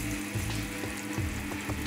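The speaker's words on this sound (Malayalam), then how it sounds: "ഇതുപോലെ നമ്മൾ ഒരു പാത്രത്തിൽ വെച്ചിട്ട് പൊരിച്ചെടുക്കുക." Sliced breadfruit sizzles steadily in hot oil in a pan, a continuous close frying hiss with small popping bursts throughout.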